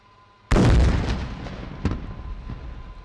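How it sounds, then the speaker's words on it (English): A kamikaze drone strikes a target in a military demonstration: one sudden, loud, deep explosion bursts out and rolls into a long rumbling decay, with a sharper secondary crack partway through; no voices. "witness the kamikaze kinetic strike"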